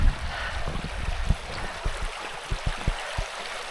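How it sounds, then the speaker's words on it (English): Water of a small river in Lathkill Dale, a limestone dale, flowing and trickling steadily close by, with soft irregular splashes and low gurgles over a broad continuous rush. "And this is the river that has the dippers on it."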